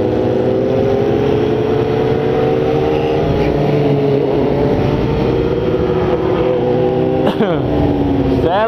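Dozens of motorcycles in a night ride convoy roar past continuously, engines droning and revving loudly with one sharp whoosh near the end, while riders talk over the noise.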